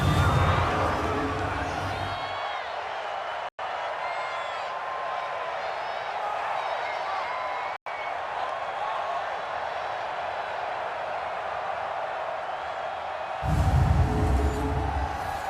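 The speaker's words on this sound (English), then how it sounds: "the crowd getting into it as we come up on a big 3rd down" Stadium crowd in Madden 20 during a Chiefs vs 49ers Super Bowl 54 game: a steady roar of cheering that swells near the end, with commentary running over it.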